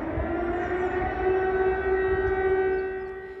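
Air raid sirens wail through the night in Kyiv, Ukraine, a sustained loud tonal drone with layered steady pitches that swells slightly and then fades toward the end, with no voices.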